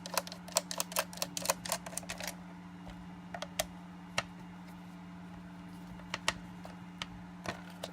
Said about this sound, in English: we're going to remove these Phillips screws that are holding the two case halves together